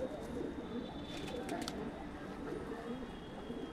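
Soft, low cooing from Punjabi pigeons kept for sale rolls along quietly and continuously, with a faint hum of background noise and no voices.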